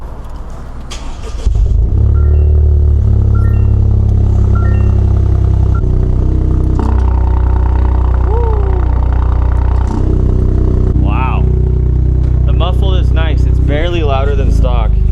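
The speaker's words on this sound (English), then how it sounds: "sounds very mechanical for a new car especially, but the exhaust note is interesting" A loud GR Corolla engine with an OTL Performance catback exhaust idles and revs with a deep, mechanical exhaust rumble, while voices talk over it throughout.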